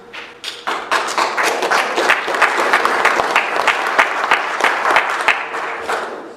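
Audience at a geothermal energy workshop breaks into applause, starting with a few scattered claps that quickly swell into moderate, steady clapping from a modest crowd before thinning out.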